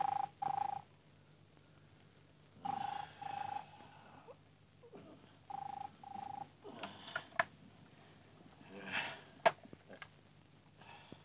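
A telephone rings in a home in an Egyptian film, as faint, repeated short bursts separated by pauses, with quiet background noise and no clear talk.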